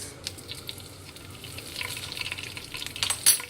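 Cumin seeds dropped into hot oil with a soft, crackling sizzle that builds up, scattered pops and light stirring nearby, fairly quiet and with no talking.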